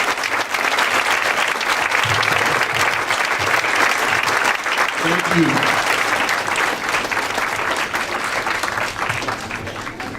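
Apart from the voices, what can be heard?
audience applause for alumni and instructors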